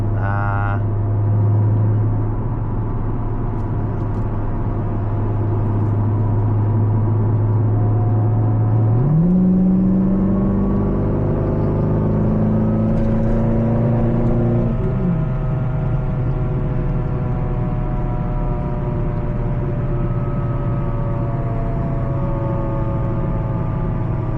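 Chevrolet Corvette engine heard from inside on a main road, a steady drone that climbs sharply in pitch through the gears as it accelerates hard, loud and continuous, no talk.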